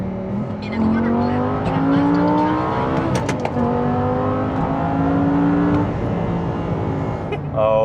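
Modified Audi R8 V10 Plus with a gated manual gearbox drives along, its V10 engine revving up through rising pitch sweeps with shifts between gears, loud and close throughout.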